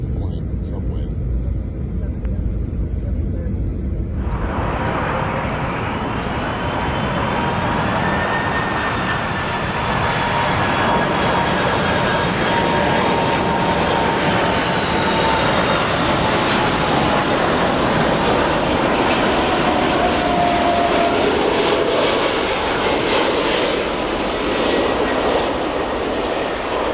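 A plane's engines roar loudly and continuously while it brakes hard, a broad steady rush with a rising whine that settles as it slows.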